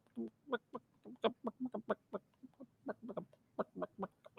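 Chickens cluck as they walk around, a quick string of short clucking bursts in an uneven rhythm, faint and fairly close.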